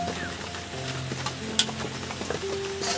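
Raw chicken pakora mixture spiced with Kashmiri chilli is squished and turned by hand, giving soft, wet, irregular squelches and rustles close by, with some background tones underneath.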